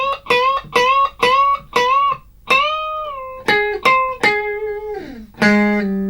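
Distorted electric guitar playing the first phrase of a song's solo, a run of repeated bent notes followed by longer sustained bends and a final low-register note, loud and close.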